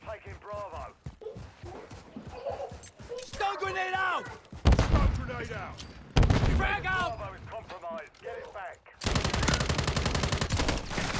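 Rapid automatic gunfire from Call of Duty MW3 multiplayer, loud bursts of shots in several clusters with someone talking between and over them.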